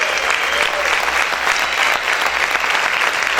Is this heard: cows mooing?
no